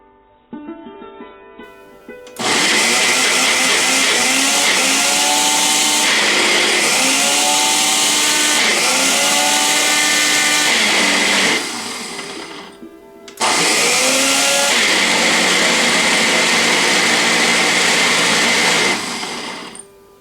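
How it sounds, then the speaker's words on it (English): Mixer grinder blending boiled dal into a fine paste, loud steady whirring in two long bursts with rising pitch sweeps as the motor spins up, separated by a short pause. "we need to grind it in the mixture to make the fine paste"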